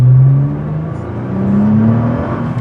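A stock Nissan GTR accelerates hard, its engine note rising steadily in a loud, close, continuous whir and rumble from inside the car, with no talking.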